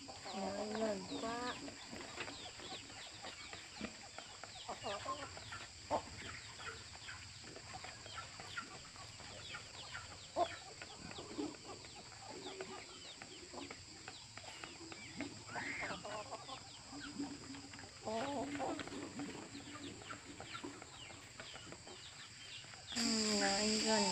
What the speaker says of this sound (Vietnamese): Thôi, cho gà ăn đã.